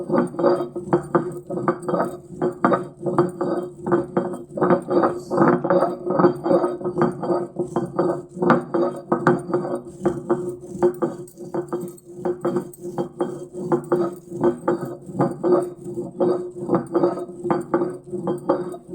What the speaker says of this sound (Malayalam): മുളകിന്റെ കുരു നല്ലോണം ഒന്ന് അരഞ്ഞ് വരട്ടെ അപ്പൊ ഉരുട്ടി ഒന്ന് അരക്കാന്ന് വിചാരിച്ചു